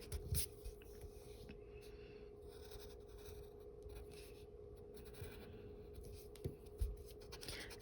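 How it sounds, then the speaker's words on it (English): A pencil line being erased from drawing paper, soft intermittent rubbing and scratchy scrubbing strokes, quiet and close, with a couple of louder bumps near the start and end. "I'm going to erase this ribbon line."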